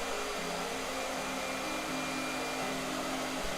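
A blow dryer runs steadily throughout, with a constant broadband whoosh and a low motor hum whose pitch steps slightly up and down. There is no talk.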